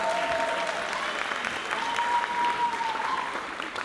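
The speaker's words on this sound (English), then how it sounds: "Let's give her another round of applause" Dense, loud applause from an audience at a school graduation ceremony for the creative arts academy, a sustained wash of many hands clapping, with a faint tone and murmurs underneath.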